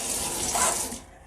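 Water runs from a tap and splashes over soaked urad dal being washed by hand in a kitchen, a close, bright rushing stream that swells and then cuts off after about a second.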